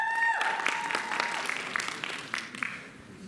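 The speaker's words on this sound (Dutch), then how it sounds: "Graag een applaus voor Noor Sinnaeve." Applause for teen solo dancer Noor Sinnaeve at a dance qualifier, a steady crowd clapping that gradually thins out, with a sustained tone fading at the start.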